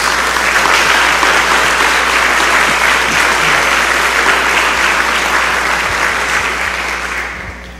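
A church congregation applauds in a dense, sustained burst of claps that stays loud for most of the time and then thins out toward the end.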